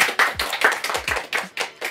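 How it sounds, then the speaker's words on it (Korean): A short burst of hand clapping from a small group, brisk and uneven, close by with no talking over it. "박수!"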